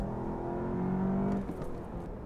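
A VW Golf GTI engine revs up steadily with a rising drone, then eases off while the car keeps moving.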